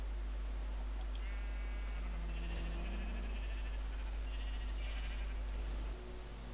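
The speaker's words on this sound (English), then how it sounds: "here we see today a pink sheep in its natural habitat" A pink sheep in the Minecraft video game gives a few short, nasal bleats over a steady low hum, fairly faint with no talking.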